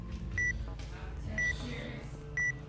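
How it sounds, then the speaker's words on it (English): Three crisp electronic beeps from a countdown timer in a Roblox game sound about once a second, evenly spaced and identical, over a low background drone with faint talk. "Unfortunately, the timer is very beepy."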